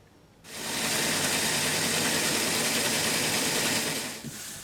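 A sewing machine stitches fabric for a holiday throw pillow cover, a steady, loud, fast mechanical whir that starts abruptly, runs about four seconds and stops, with no talk.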